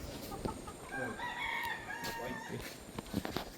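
A yellow gamecock rooster crows once in a breeding pen, a clear drawn-out call rising and falling, with soft clucks and farmyard noise around it and no talking.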